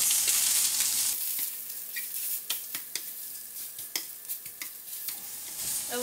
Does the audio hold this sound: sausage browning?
yes